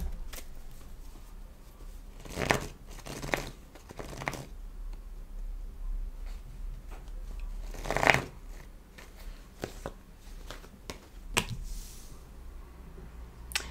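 Tarot cards being shuffled and drawn by hand, a run of crisp riffling bursts and soft slaps spaced irregularly, close and fairly quiet with no talking.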